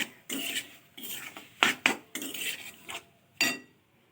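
A utensil scrapes and stirs coconut spice mix in a pan on a gas stove in short, irregular strokes, each a bright rasping scrape with gaps in between, close and fairly loud.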